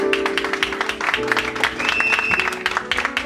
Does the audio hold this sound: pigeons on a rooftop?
no